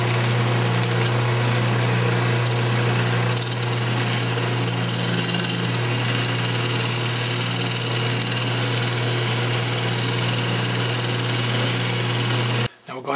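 A wood lathe spins a turned wooden tea-light candle holder while it is sanded, giving a steady loud whirring drone with a constant hum that runs unbroken until it cuts off abruptly at the end.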